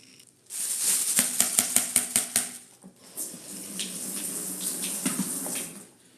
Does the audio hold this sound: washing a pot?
yes